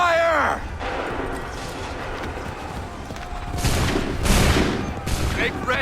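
Musket volleys crash out in an Assassin's Creed 3 battle at Lexington and Concord, with several bursts of massed gunfire mid-clip over battlefield ambience while a voice shouts commands.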